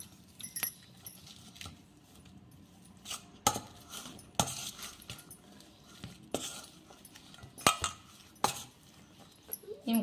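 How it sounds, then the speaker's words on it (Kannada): Boiled potatoes smashed in a metal vessel, with irregular sharp clinks and knocks of utensil against pan, close and moderately loud, scattered across the whole stretch. "ಈಗ ನೋಡ್ರಿ, ಸ್ಮ್ಯಾಶ್ ಮಾಡೋಣ."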